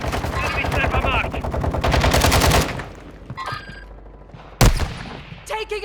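Dense automatic gunfire from a Call of Duty Warzone Resurgence match, rapid bursts of close shots that fade, then a single sharp report and scattered effects, with brief game voice callouts.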